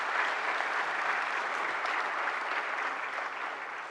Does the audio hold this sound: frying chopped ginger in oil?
no